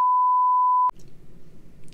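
A steady, pure censor beep sounds loudly for just under a second over a word in a podcast, then cuts off abruptly into faint background noise.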